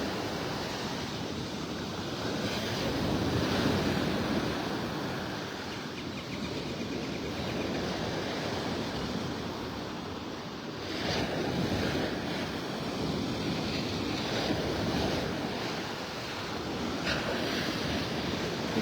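Ocean waves roll and break steadily on a Gulf of Mexico shore at Vanderbilt Beach, North Naples, Florida, with strong surging swells rising and falling under a constant wind rush; no voices.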